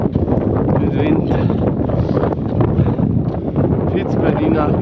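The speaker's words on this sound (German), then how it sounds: "Mit Wind." Strong wind buffets the microphone on the Biancograt ridge of Piz Bernina, a loud, continuous roaring rush that never lets up.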